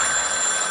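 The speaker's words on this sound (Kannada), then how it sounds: "ಕರೆ ಬರುತ್ತಿದೆ. ಅದು ನನಗ್ ಬರ್ತಿದೆ." A telephone bell rings loudly and steadily for an incoming call, with no talking.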